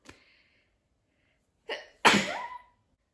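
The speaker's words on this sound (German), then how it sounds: "Jetzt muss ich niesen." One person sneezes loudly and abruptly after a short sharp inhale, with a faint breath at the start and quiet surroundings.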